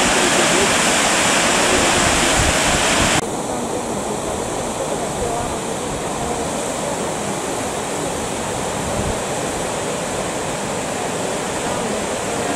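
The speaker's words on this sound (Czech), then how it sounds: "Vodopády se vlévají do řeky Hvítá." Waterfalls cascading from a lava field into the Hvítá river in Iceland make a dense, steady rushing roar of falling water, loud and continuous, a little brighter at first and then even and unbroken.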